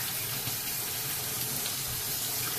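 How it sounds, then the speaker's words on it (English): Tap water runs steadily into a sink while small fish are rinsed under it, a close, continuous splashing hiss that stays even throughout, with no talking. "I'm gonna let them run under the water for a little bit."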